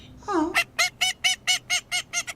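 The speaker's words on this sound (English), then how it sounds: "male and female ducks sound different" A duck calls in a quick, steady run of about eight loud, close quacks, opening with a brief rising note.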